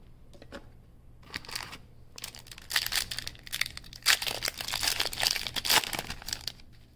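Flesh and Blood Welcome to Rathe Unlimited booster packs torn open by hand, with crisp foil wrappers crinkling and ripping in bursts of rustling, close and fairly loud, with no voices.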